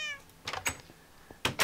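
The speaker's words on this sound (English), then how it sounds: "Say hi to the cats." Cats in Minecraft meowing repeatedly, several clear mewing cries in quick succession with a faint trailing meow at the start, close and fairly loud, no voices.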